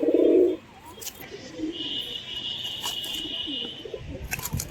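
Racing pigeons coo in a loft, a short loud close coo at the start followed by softer background cooing, faint chirps and light rustling.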